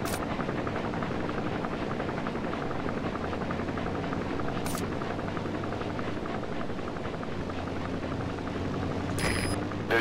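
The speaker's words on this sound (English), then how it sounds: "There's a chopper landing." A helicopter lands in the video game Metal Gear Solid V: The Phantom Pain, with a loud, continuous rotor thump and engine drone holding steady throughout and a few sharp game effects cutting in.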